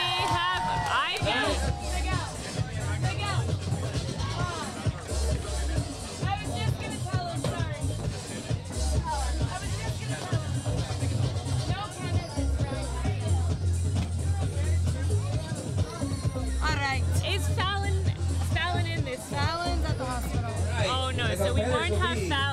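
Crowd at a Quad Cup advanced street roller-skating event, a steady murmur of chatter and occasional cheers beneath an announcer speaking over loud background music.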